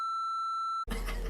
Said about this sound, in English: That's gonna be beep the fuck out.